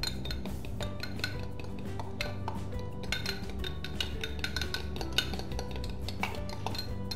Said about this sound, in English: So now we've got our blue and green food dyes, and we're going to mix it up.